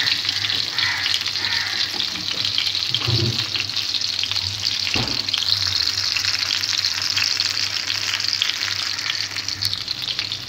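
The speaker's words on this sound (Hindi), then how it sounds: "थोड़ी सी और फ्राई करेंगे" Fish fries in a pan at home, a continuous bright sizzle of hot oil with occasional stirring clatter and a brief louder bubbling burst, close and steady throughout.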